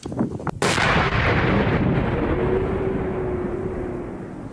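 A single powerful controlled detonation of a drone warhead booms in a field after a few faint pops, then rolls into a long, loud rumbling echo that slowly fades.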